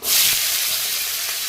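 Dried red chillies and spices hit hot oil with a short, loud burst of hiss that settles into a steady sizzle, heard close and alone.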